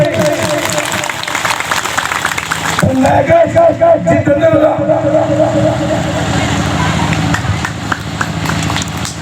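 A crowd claps steadily and rhythmically at a Sarna prayer gathering in Lundri, Chanho, with the clapping swelling louder after a few seconds under continuous voices and singing.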